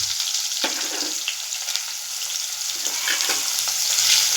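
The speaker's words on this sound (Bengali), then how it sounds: "এবার দিয়ে দেবো পেঁয়াজ কুচি।" Chopped onion dropped into hot oil already tempered with dried red chillies, bay leaf and cumin for a prawn malai curry, a sudden burst of loud sizzling that continues steadily with light stirring, no voices.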